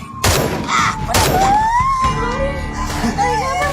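Two heavy, booming gunshots ring out in a film scene, about a second apart, followed by wavering, strained vocal sounds and lighter rumbling.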